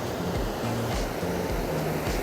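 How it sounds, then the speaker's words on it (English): Water overflowing from a canal in Ottawa rushes in a steady, loud broadband wash with surf-like surges and faint wind rumble, no voices. "there you can see the overflow of the canal"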